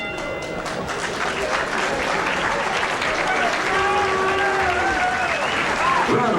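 Crowd applause at a 1980s bantamweight boxing match in Atlantic City after ten rounds, a steady, fairly loud wash of clapping that continues throughout with faint crowd voices mixed in.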